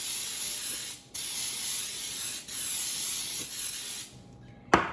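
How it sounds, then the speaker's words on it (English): Cooking spray hissing from an aerosol can into a Bundt pan, several steady bursts with brief breaks between them, close and loud, ending in a sharp clunk. "Spray your Bundt pan down very generously."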